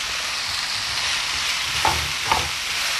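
Potatoes, carrots and shiitake mushrooms stir-fry in a pan with a steady, close hiss and two brief utensil scrapes partway through.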